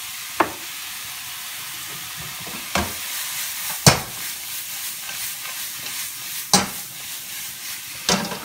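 Mushrooms sprinkled with salt sauté in a pan with a steady moderate sizzle, broken by a few sharp scraping knocks of a utensil stirring against the pan.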